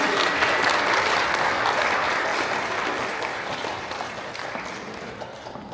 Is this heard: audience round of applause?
yes